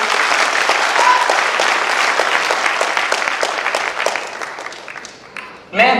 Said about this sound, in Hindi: आप सभी के लिए एक बार जोरदार तालियां।